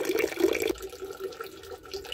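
Water spilling steadily down a small recirculating garden water feature, the same water pumped back up to the fall; a continuous splashing wash, loud at first then softer and steady, with no talking.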